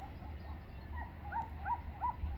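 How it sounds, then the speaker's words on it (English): Dogs bark in the distance across a lava-covered area near Montaña Laguna. The barks are faint and come as a few evenly spaced calls over low background noise. "I hear many dogs barking."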